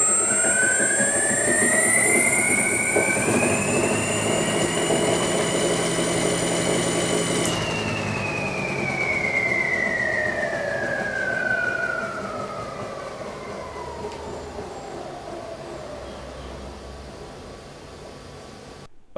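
DIY flywheel battery with weights fixed at the outer position spins while generating power, a loud steady whir with a rising then slowly falling whine as it spins up and winds down.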